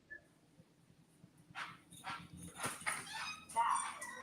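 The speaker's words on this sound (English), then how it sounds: "he over there barking" A pet dog barks a few times from across the room, faint and slightly distant, with short yips and whimpers over a low indoor hum.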